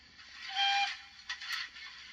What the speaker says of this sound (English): So that's short whistle is number 2.